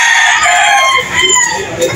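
A rooster crows loudly and close by at a chicken market, a long drawn-out call with a raspy tail, heard on its own without talking.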